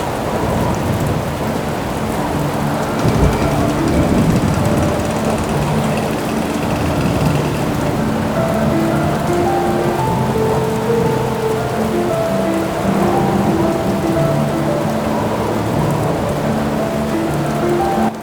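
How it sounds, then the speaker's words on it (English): Steady heavy rain falls in the early morning of a monsoon storm in Chemmenchery, Chennai, a dense continuous wash of drops with low rumbles that suggest distant thunder, no voices. "early morning, and it has started to rain."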